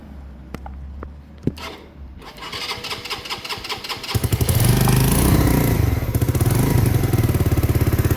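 A Mutt motorcycle is started: a few sharp clicks and a brief crank come first, then the engine catches and settles into a loud, close, throbbing idle.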